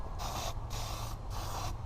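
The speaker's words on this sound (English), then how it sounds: "so you just want to spray this stuff on lightly" Three short hissing bursts from a spray can applying finish onto charred wood, evenly spaced with brief pauses, close up and moderately loud.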